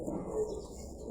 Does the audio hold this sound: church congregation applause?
no